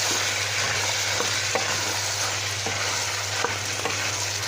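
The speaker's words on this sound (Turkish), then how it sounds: "Üzerine de kuru fasulye ekliyorum arkadaşlarım. Onu da şöyle bir kavuralım." Dried beans sautéed in a pan: a constant close sizzle with periodic spoon scrapes and light clicks, several stirring strokes in a loose rhythm, no voices.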